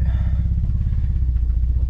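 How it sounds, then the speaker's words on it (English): Rough, shaking Mazda Miata race car engine idling close up, a loud, low, uneven rumble with rattling clatter from worn motor mounts. "look at this engine shaking the f out"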